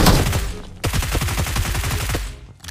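Rapid automatic gunfire in the battle royale game BGMI, loud sustained bursts of closely spaced shots with a brief pause near the start and a fade at the end, no voices.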